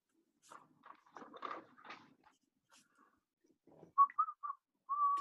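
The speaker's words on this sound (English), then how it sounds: "You're whistling and laughing." A person whistles a few short, clear notes and then one longer held tone, close and fairly quiet, after some soft rustling and faint shuffling noises.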